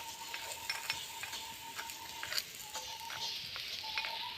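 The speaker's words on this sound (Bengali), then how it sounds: "তেলগুলো গায়ে ছিটকে যাচ্ছে, দেখতে পাচ্ছেন বন্ধুরা।" Potatoes frying in hot oil give a steady, close crackling sizzle with scattered sharp pops of splattering oil and occasional light stirring.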